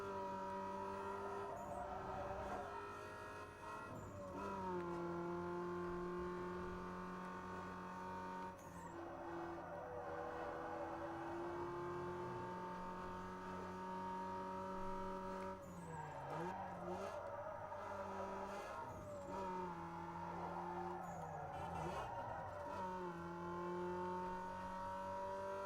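A Toyota Supra races in Need for Speed Underground 2 on the original Xbox, its engine droning loudly and steadily, rising and falling with gear changes and revs, with occasional tire squeals through corners.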